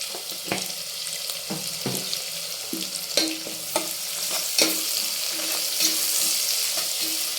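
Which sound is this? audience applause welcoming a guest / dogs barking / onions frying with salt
onions frying with salt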